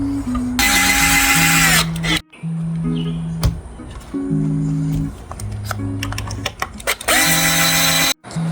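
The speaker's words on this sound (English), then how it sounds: "drill the screws so that they just protrude like that" A power drill drives screws into a new board while building a wooden tomato planter. The drill whines in loud bursts, one at the start and one near the end. Between them come clattering handling noises and short motor pulses.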